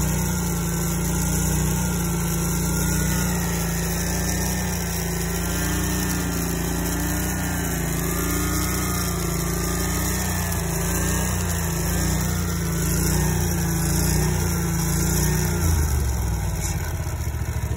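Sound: Scag hydro-drive mower engine running

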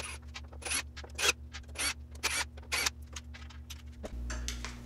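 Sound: removing front panel screws with a screwdriver

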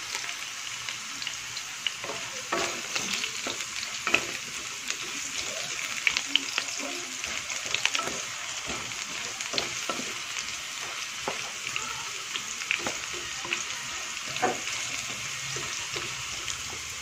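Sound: carrots and potatoes frying in a pan

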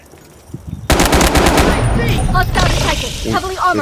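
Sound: gunfire in the video game Delta Force Mobile

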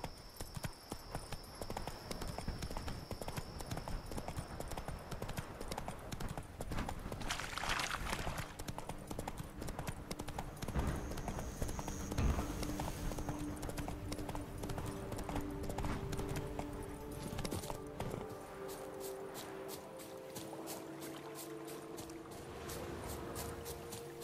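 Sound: horse Roach galloping, from the video game The Witcher 3

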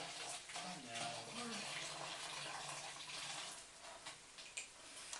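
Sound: boiled water poured into a bottle

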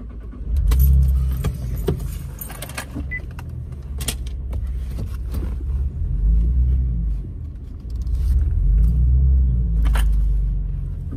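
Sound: car keys jangling

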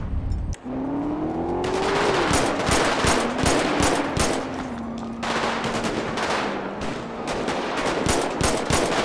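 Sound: gunfire in the video game GTA 5

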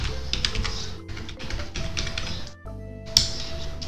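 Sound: typing on a computer keyboard to confirm a password

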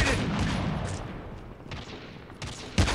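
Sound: sniper gunfire in Call of Duty Mobile video game

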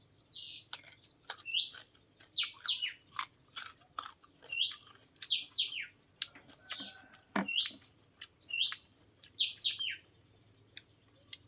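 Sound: birds chirping

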